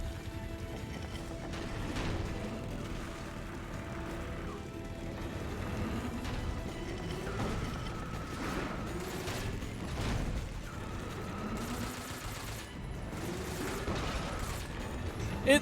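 AK rifle fire in Metal Gear Solid 3: scattered sharp shots over a dense bed of game music and ambience, with the shots sitting at moderate loudness.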